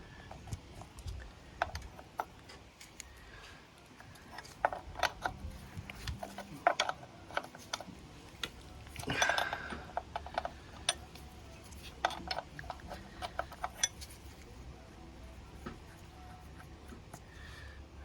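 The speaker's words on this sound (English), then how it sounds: "Followed by the lock-in nuts here on the adjusters using I think this is a 13mm spanner" A 13mm spanner works the lock nuts on the chain adjusters of a KTM 1290 Super Adventure, giving scattered metallic ratcheting clicks and scrapes with brief pauses, close and fairly quiet.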